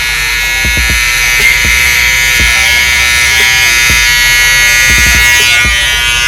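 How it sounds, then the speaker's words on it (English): Babeless hair clippers run with a steady, loud electric buzz that holds for the whole stretch, with faint clicks and taps of handling underneath. "This is one of my main clippers I use right here,"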